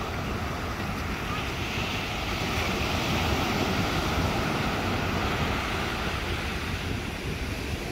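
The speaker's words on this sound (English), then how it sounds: "Man, the waves are perfect for surfing today." Steady ocean surf rolls in at Sebastian Inlet, Florida, a continuous broadband wash of breaking waves mixed with wind buffeting the microphone, constant in level with no distinct talk.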